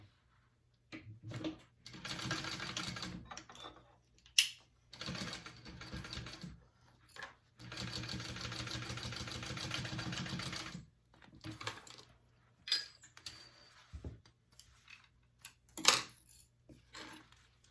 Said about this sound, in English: And then I'm gonna sew that on at a 3/8 inch seam allowance.